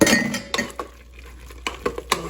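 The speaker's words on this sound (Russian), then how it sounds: "Размешиваем." A spoon clinks against a bowl while stirring milk and butter into dough for shangi, a few sharp clinks and scrapes spaced out over a quiet kitchen background, close and alone without talk.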